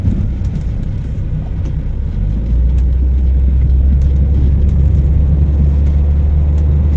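A 1992 Toyota Corona on the road gives a steady, loud low rumble of engine and tyre noise that swells slightly as it speeds up partway through, with no voices.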